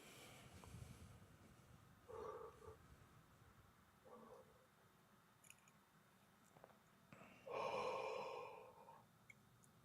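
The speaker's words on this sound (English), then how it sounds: "Take a few breaths, let it yawn." Slow, deep breaths drawn in and let out during a guided relaxation, a few soft inhale-exhale swells spaced apart, the last one longer and fuller like a yawning sigh, close and quiet over a faint background hiss.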